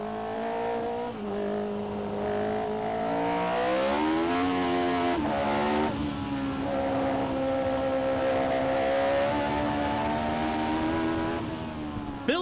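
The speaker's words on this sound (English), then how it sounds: "In spite of having deeply grooved rain tires on his Tyrrell, Patrick Depailler is constantly fighting wheel spin" A Tyrrell Formula One car on rain tires circles the wet Montreal circuit, its engine note loud and sustained, rising and falling as it struggles with wheel spin, with no voices over it.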